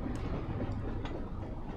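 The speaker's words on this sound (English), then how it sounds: "I need to watch out for that train though." A train in the video game Dreamfall: The Longest Journey rumbles past with a steady, dense low roar and faint rhythmic clatter. It is fairly quiet and continuous, with no talking.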